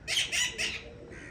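Pigeons give a few loud, close squawking calls in quick succession, about three bursts, then trail off into quieter background.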